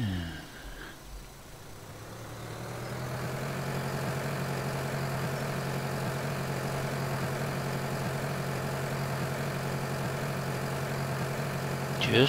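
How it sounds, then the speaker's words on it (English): A tractor engine in the video game Farming Simulator 2013 idles with a steady low drone that holds at even loudness, with no talking over it. "I'm gonna have to bring my tractor down."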